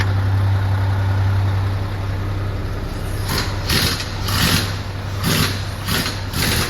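A truck's liftable rear axle system under test: a steady engine idle hums throughout, then a series of loud bursts of hissing air release and mechanical clunks repeat near the end, close and loud.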